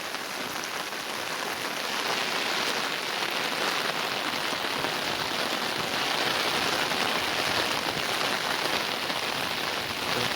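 Heavy monsoon rain keeps falling on flooded rice fields in Konkan near a swollen river, an unbroken close wash of drops at even loudness.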